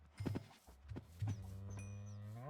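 Cows in the video game Minecraft give a few low moos, one drawn-out call trailing off near the end, fairly faint with a soft background.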